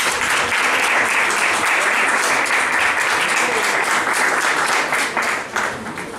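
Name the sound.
audience applause welcoming a speaker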